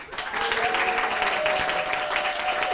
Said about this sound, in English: Give a big round of applause to Dan Wilson,